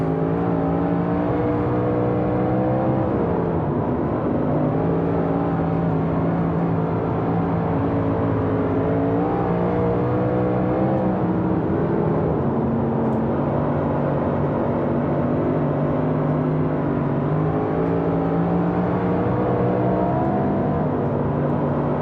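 Big Block Modified race cars on the Bristol dirt track in iRacing, several engines droning and revving steadily in a dense, continuous roar with shifting pitch as the pack circulates, loud and unbroken.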